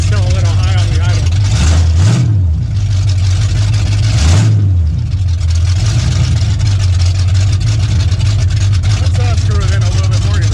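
An Oldsmobile 455 V8 in an 1981 Cutlass idles a little high, a loud steady rumble close by with two short revs blipping upward, while people talk over it.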